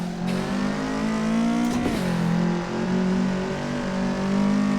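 A turbocharged Toyota AE86 Trueno coupe in the Assetto Corsa racing game holds a loud, steady engine drone near the listener, the pitch dipping briefly around a gear change before climbing again, with no talk over it.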